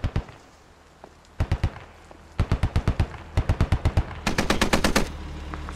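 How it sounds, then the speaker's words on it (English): Stryker vehicle's mounted gun firing in the military shooter game Squad, several loud bursts of rapid, evenly spaced shots with short pauses between, the final burst longest, over a low engine rumble. "Striker shooting at something."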